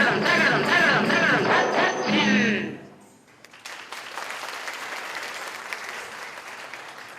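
A singer finishes a song at a stage festival, then audience applause breaks out after a short pause, steady and moderately loud for several seconds.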